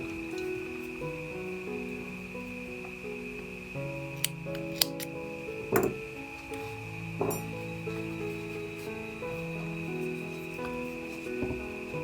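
Scissors cutting crochet yarn after a finished pine cone ornament: a few brief, soft snips under steady background music.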